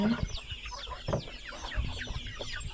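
Free-range native chickens cluck softly in a farmyard rain shelter, several short scattered clucks and murmurs at a moderate distance, faint and low in level.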